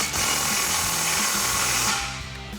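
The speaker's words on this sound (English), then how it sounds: "Same thing, impact and 15mm socket." An impact wrench with a 15mm socket tightens an exhaust clamp and hanger combo on a Ford F-150 EcoBoost with an MBRP Armor BLK dual exhaust. A loud, close, continuous rattling hammer runs about two seconds, then eases off.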